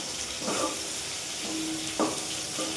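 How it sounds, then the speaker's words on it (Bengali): Food frying in a pan with a steady, hissing sizzle, heard up close and moderately quiet, punctuated by a few brief stirring scrapes and no voices. "এবং ভেজে নিই"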